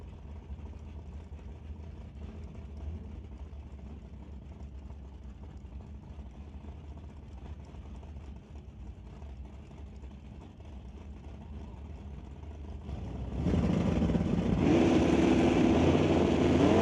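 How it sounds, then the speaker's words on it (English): A 1967 Dodge 440 RT and a 1996 Camaro at a drag strip, engines rumbling at idle before a sudden loud surge as they launch, the roar filling the final seconds. "John Baricello driving the 67 Dodge 440 RT, taking on Dave Jung in the 96 Camaro"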